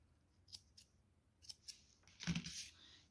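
Scissors snip crochet yarn up close, a few faint metallic clicks followed by one louder crisp cut, in an otherwise quiet room.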